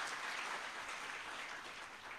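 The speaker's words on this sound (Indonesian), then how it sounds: "Tepuk tangan untuk Pak Bupati Sleman." Quiet, distant-sounding applause from an audience for the Sleman regent, a continuous wash of clapping at low level with no voices over it.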